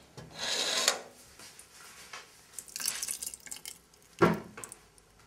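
Lemon juice poured into homemade elderflower syrup in a kitchen, with soft close splashing and trickling in a few short bursts and a sharper drip near the end, quiet overall.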